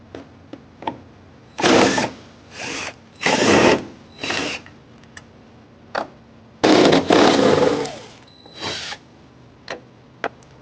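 Power tool spinning out 10mm bolts on a Ford Maverick tailgate, several loud close whirring bursts of one to two seconds separated by pauses and small clicks, no speech.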